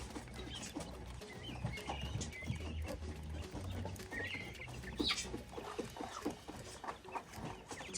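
Several caged quail, about four birds, give off a busy stream of soft clucks, chirps and scratchy calls, close by and steady over a constant low background, with no voices.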